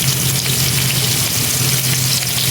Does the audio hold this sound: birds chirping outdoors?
no